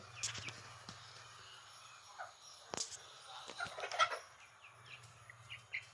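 Wyandotte chickens on a farm make scattered soft clucks and short calls, near and fairly quiet, with a faint steady hum underneath.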